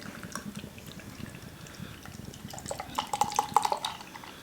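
Pabst Blue Ribbon beer pours into a glass with a soft, steady liquid splash that grows louder and more bubbly toward the end, with no voices.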